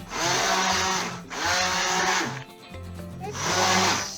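A stick blender whirs in three loud bursts with short pauses between, its motor pitch wavering as it churns thick liquid soap mixture nearby.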